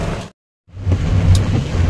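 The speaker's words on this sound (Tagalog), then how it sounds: "Ang lakas ng ulan." Heavy rain pours down near a parking area, a dense loud roar with a brief cut of silence before the downpour resumes steadily.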